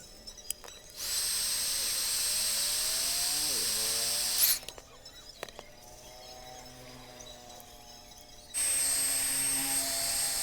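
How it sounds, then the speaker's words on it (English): An industrial heat gun heating PVC pipe blows with a loud, steady hiss, running for several seconds, cutting off, then starting again, with a tonal whine and small handling knocks between the runs. "use an industrial heat gun to simply hit the PVC pipe till it's bendable"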